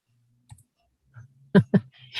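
Computer mouse clicks during a Google Earth virtual travel session: a few sharp, separate clicks, with a quick close pair standing out against near silence.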